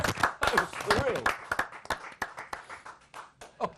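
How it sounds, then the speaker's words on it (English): Studio audience and hosts clapping at a football fan podcast recording, a dense patter of hand claps that thins out over a few seconds, with voices chattering over it. "we're still clapping"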